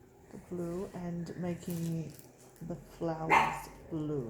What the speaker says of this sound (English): That's our dog. She loves to bark for no reason.